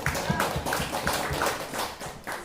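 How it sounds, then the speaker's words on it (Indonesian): A group of participants in an Indonesian parent-education class session claps together in a short burst of applause for a mother who has just answered, the claps fairly close and uneven in rhythm. "Kita kasih aplaus dulu, tepuk tangan untuk ibu yang sudah menjawab."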